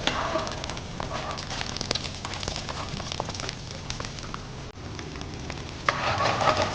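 Peeled small onions sauté with garlic and green chilli in a pan for an egg kurma gravy. A continuous close sizzle and crackle runs throughout, with intermittent stirring scrapes and no speech.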